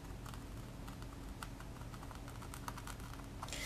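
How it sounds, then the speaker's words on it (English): Pencil tracing over drawing lines on paper laid against a canvas for carbon transfer, a steady dry scratchy scribbling with quick tapping strokes, close and continuous throughout with no voices. "So I'm just tracing over all the lines."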